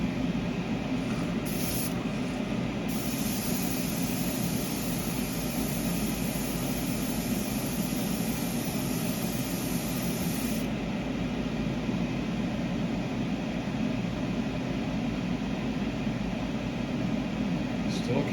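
An aerosol can sprays another coat of gold paint in one long, continuous hiss that holds steady and close throughout, with no pauses.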